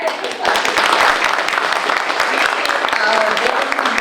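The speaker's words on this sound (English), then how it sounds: "He deserves an enormous round of applause. If everybody could clap." An audience at a historical society's annual meeting claps for a volunteer, building quickly into sustained, fairly loud applause with distinct individual claps in the crowd, continuing evenly to the end.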